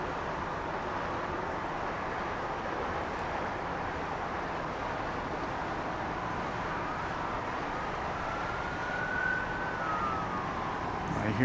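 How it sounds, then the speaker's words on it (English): Emergency vehicle sirens near DFW Airport, a faint distant wail over steady airport and traffic noise, rising briefly toward the end. "I hear sirens."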